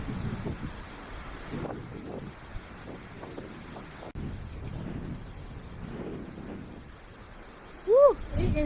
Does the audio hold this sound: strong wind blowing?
yes